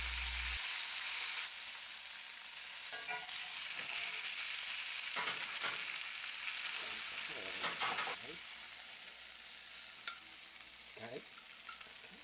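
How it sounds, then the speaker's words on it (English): Prime rib roast seared for about a minute in a cast iron pan makes a steady, fairly quiet sizzling hiss throughout, with a few brief clinks and crackling bursts from the meat being moved. "We only need to sear the outside for about a minute because the meat is already cooked"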